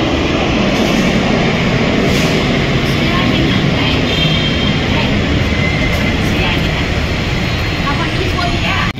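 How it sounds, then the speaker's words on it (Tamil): An IndiGo airplane departs from the airport with a steady, loud engine roar that holds constant throughout, and voices can be heard talking over it. "இப்போ அங்கே பார்த்தீங்கன்னா ஒரு ஃப்ளைட் வந்து கிளம்புதுங்க. இண்டிகோ ஃப்ளைட் ஒன்று டிபார்ச்சர் ஆகுது."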